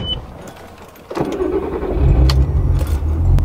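Car starting and pulling out, a soft click and rustle followed by the engine catching and settling into a low idle rumble that grows louder as it moves, close by, with no talk.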